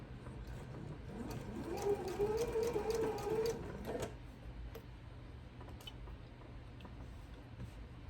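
A sewing machine stitches a quilt in a quick, rapid mechanical run of needle ticks and whirring, moderately close, then stops, leaving quiet clicks and handling noises in a calm room.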